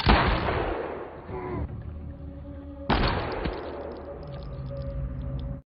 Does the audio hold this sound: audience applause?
no